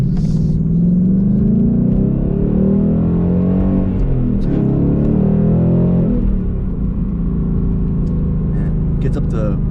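A Ford Mustang GT with a manual stick shift accelerates hard in first gear, its deep engine rumble rising steadily in pitch over about ten seconds, loud and close from inside the car.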